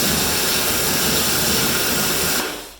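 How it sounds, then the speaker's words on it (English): High-pressure washer jet blasting brake dust off a car wheel during a wash, a loud, steady broadband hiss running almost three seconds before cutting off abruptly. "But then you just want to high pressure this off as well."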